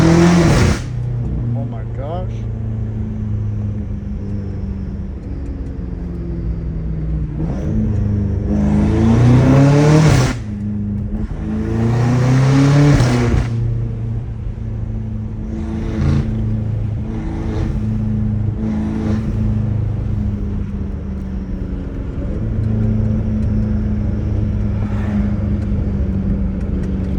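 A straight-piped BMW M5 Competition revs loudly and deeply, its rumbling idle broken by several sharp climbing bursts, with people talking over it.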